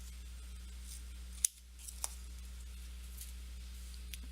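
A single quiet scissor snip slicing card stock in half, brief and close against a low steady hum, with a couple of faint small clicks afterward.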